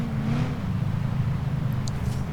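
An old Ford Mustang's naturally aspirated V8 in a driving game, a steady close engine drone held at a constant pitch for about two seconds, with a faint high tick near the end.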